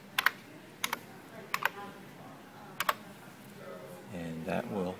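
Four sharp bursts of keystrokes on a computer keyboard as a command is typed, quick clustered clicks spaced across the moment, ending with fainter mixed sounds and no talk.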